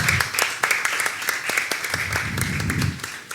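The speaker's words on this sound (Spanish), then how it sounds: "Un aplauso para ustedes" A packed storytelling-show audience claps in loose, uneven applause, distinct individual claps standing out in a moderately loud burst with some voices murmuring underneath.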